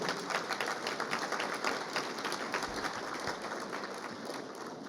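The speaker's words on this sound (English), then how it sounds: "Give a round of applause there." Breakfast guests seated at tables give a round of applause, a fairly faint, steady wash of many hands clapping in a large room, tapering slightly toward the end.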